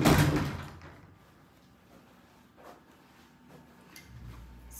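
A pocket door to a bedroom slides along its track with a rumbling scrape at the start, then fades into quiet with faint knocks and a low thud near the end, no speech.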